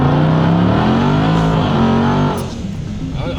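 A very loud Jeep SUV engine roars up close with a rising howl, holds at full volume, then drops away sharply as it passes and fades.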